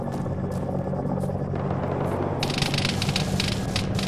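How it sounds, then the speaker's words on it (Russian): A helicopter in the military game ArmA 3 drones with a steady low rotor rumble, then a burst of rapid crackling gunfire-like bursts joins in partway through, loud and continuous with no speech. "Вертолет злой."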